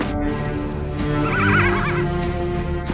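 A horse neighs in the middle distance, a wavering whinny that rises and falls over a steady low background, heard alone with no talking.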